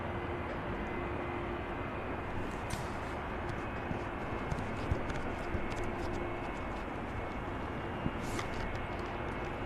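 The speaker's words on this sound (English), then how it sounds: "That certainly looks and sounds like a Boeing 757. It's a 300 series as well." A Boeing 757-300 taxis at Manchester Airport on a foggy day, its engines a steady, fairly distant broadband roar and whine, with a few faint clicks and knocks over it.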